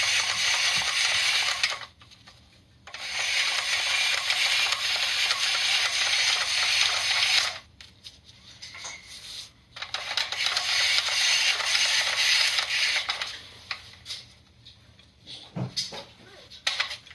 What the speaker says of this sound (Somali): Waa mashiin qudaarta ka dhigaya sida baastada.